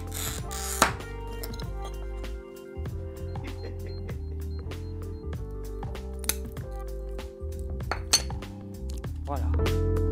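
Light clinks and taps of stained glass being handled and cut for a window at a glassworker's studio, quiet and intermittent with occasional sharper glassy chinks and a voice talking throughout.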